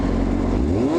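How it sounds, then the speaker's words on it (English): A Honda CBR motorcycle engine revs close up, a loud droning tone that climbs steadily in pitch over about a second. "So now if we rev it, that goes up a lot."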